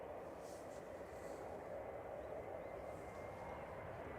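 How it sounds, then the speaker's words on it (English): An Airbus A320 classic, ten years old, arrives at Manchester Airport from Antalya with a distant, steady jet engine roar that holds level throughout, no voices over it. "GHLYB coming in from Antalya. This is one of their A320 classics."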